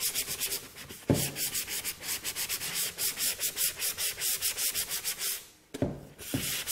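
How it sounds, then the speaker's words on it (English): A wooden surface is sanded by hand with a sanding glove, giving a rapid, rhythmic rasping scuff of repeated back-and-forth strokes, close and continuous with two brief pauses. "I'm just going to sand away"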